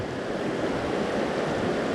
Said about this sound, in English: here we are at the mighty Neversink River